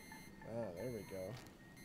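Repeated electronic beeping in the video game Golf Club: Wasteland, soft tones that sound three times in a row with even spacing over a faint background hum.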